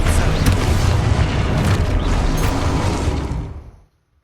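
A spell blast in Hogwarts Legacy goes off as a loud, close, broadband boom with crackling debris, sustained for a few seconds before cutting off abruptly into silence.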